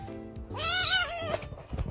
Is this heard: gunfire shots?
no